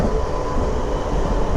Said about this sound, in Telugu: ఇక్కడ నుంచి చూసుకుంటే మళ్ళీ మన ట్రైన్ అయితే నల్లమల ఫాస్ట్ అయితే కొంచెం అయితే ఎంటర్ అవుతుంది.